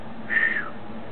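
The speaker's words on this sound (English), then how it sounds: "Can't whistle." Someone attempts to whistle indoors while walking through a loft apartment, producing one brief breathy, airy tone that barely forms a pitch before fading out.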